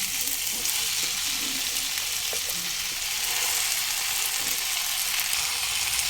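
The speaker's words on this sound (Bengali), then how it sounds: "এবার কেটে পরিষ্কার করে ধুয়ে রাখা শাকগুলো দিয়ে দেবো" Chopped, washed pumpkin greens sizzle in a pan over medium flame for a catla fish-head chorchori, a steady close crackling hiss with faint stirring scrapes.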